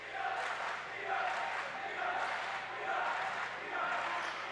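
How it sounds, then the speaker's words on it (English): A crowd in a high school gym cheers and murmurs steadily through a boys basketball game between Monett and Branson, a broad, continuous roar with gentle swells, no clear speech. "Crowd is into it here in Monett."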